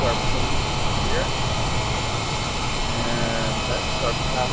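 A Boeing 787 Dreamliner jet in a flight simulator game on a flight to Victoria Airport gives a steady, loud engine roar and hum that runs without break throughout.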